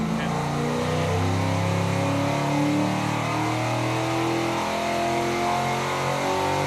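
An AMC 401 V8 racing engine on a dyno revs steadily toward red line, a loud sustained roar with rising harmonic tones throughout, with voices faintly present beneath the engine.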